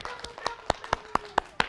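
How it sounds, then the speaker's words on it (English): A single run of about eight evenly spaced hand claps sounds close and clear against a quiet background, with children present. "Clap for yourself."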